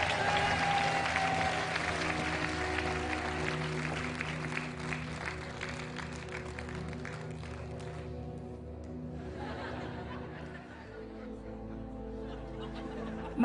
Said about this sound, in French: Par là, sous les applaudissements,